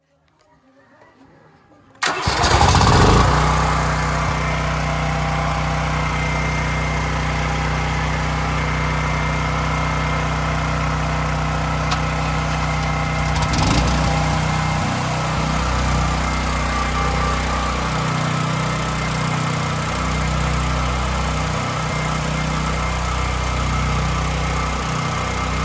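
A portable generator, its carbon monoxide sensor being tested outdoors, is pulled into life after a quiet start, then runs loud and steady close by, its engine note shifting slightly midway before settling into a continuous hum.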